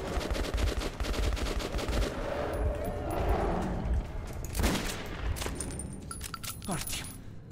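Gunfire in Metro 2033 Redux, set in post-apocalyptic Russian metro tunnels: dense rapid shots and bursts run throughout, loud and close, with metallic clinks and a voice briefly talking over the mix.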